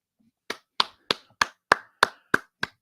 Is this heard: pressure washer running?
no